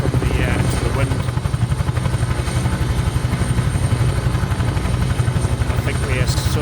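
A Huey helicopter in Microsoft Flight Simulator flies with a loud, steady rotor chop thumping rhythmically over a whining turbine drone.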